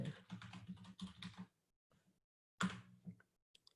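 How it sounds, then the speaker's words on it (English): Rapid keystrokes on a computer keyboard come in a dense, close burst, then pause before a few more scattered presses and a final light tap. "So see, typing is kind of slow here."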